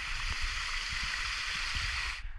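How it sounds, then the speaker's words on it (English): A stream flows outdoors, a faint, steady broadband rush of water with soft low gurgles underneath, continuous for a couple of seconds before dropping away at the end. "I walked next to a stream and got some stream footage"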